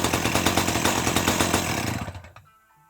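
A 1984 Dolmar 100 chainsaw engine runs loud and steady at close range, then is choked off, sputtering and dying into silence near the end.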